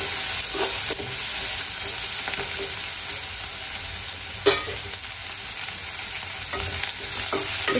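Onions frying in a pan, roasting toward golden brown, give a continuous close sizzle with occasional scraping stirs and clicks of the spatula, no voices present.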